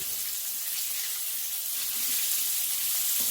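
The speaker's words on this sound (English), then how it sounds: "the chicken is frying nicely" A steady, soft sizzle of chicken frying in hot oil in a skillet, hissing continuously at a close distance with no talking.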